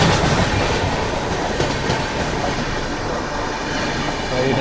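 On board the Krishna Express, running from Tirupati to Adilabad, a steady rumble and clatter of wheels on track fills the air, with the Humsafar Superfast Express running alongside; the noise is constant and close, with faint squeals.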